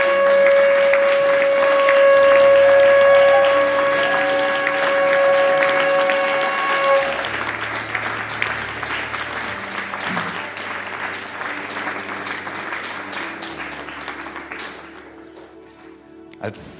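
Church congregation applauding during worship, a sustained broad clatter of many hands under a held musical tone at first, then continuing alone and tapering off gradually toward the end.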